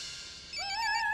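A phone ringtone starts after a short quiet pause, playing a bright, steady electronic tone that rises slightly and holds, faint against a low background.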